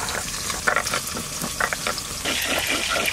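Chital fish belly pieces frying in a pan, a steady close sizzle and crackle with intermittent stirring or water-splash bursts, no talking.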